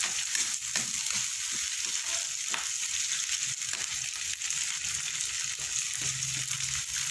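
Sweet potato leaves fry in a pan with a steady, close sizzle and occasional stirring scrapes, with no talk over it.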